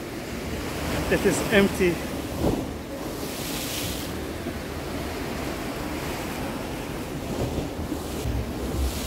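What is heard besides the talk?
sea waves at Marmara Beach at night, Antalya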